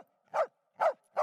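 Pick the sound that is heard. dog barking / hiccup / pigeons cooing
dog barking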